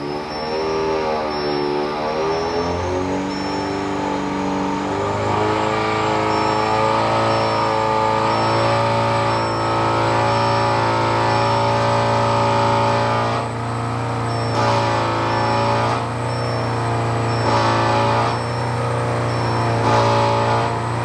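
A Stage 3 Audi S3 of about 500 bhp running loud and steady on a dyno at around 3,500 rpm, its engine drone shifting pitch early on and then holding a sustained, near roar with faint tonal whine.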